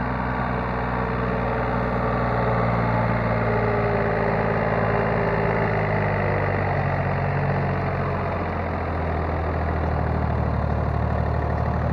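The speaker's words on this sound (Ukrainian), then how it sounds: "моторчик урчить" A Yanmar AF-326 tractor runs with a 1.7 m rotary tiller, its engine giving a steady, close, low rumbling drone with a mechanical rattle throughout and no break.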